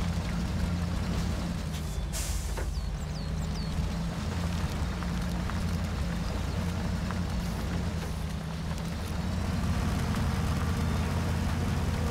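In the off-road driving game MudRunner, a crane-equipped tractor engine idles with a low, continuous drone and steady hum, unbroken throughout with a faint whoosh early on and no talking.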